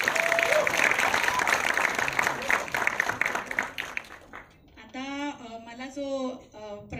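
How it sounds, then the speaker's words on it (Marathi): An audience in Pune bursts into loud, sustained applause at a Marathi film's song launch event, dense clapping filling the first few seconds before fading as a voice begins speaking over the hall. "त्यामुळे पुण्याला जोरदार टाळ्या."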